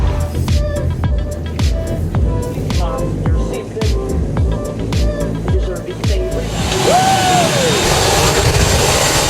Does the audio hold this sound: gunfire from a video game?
no